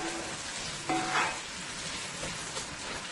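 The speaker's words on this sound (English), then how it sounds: "I'm going to let this onion, garlic, and chili pepper saute for about 2 to 3 minutes" Onions and garlic sauté in hot oil in a pot, a steady close sizzle running throughout with a brief brighter burst of frying near the middle, no voices.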